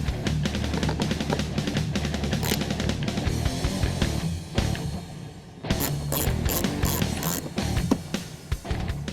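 A ratchet wrench clicks rapidly while removing 8mm bolts from the lower air deflector of a 2013-2014 Mustang, with bursts of dense ratcheting, a brief pause, then more, close by.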